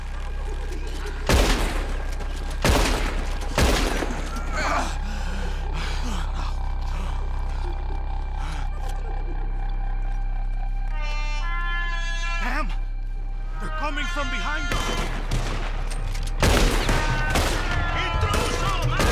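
Gunfire rings out in Red Dead Redemption 2 as shots are aimed at ropes, several sharp loud cracks standing out over busy game ambience and shouting voices.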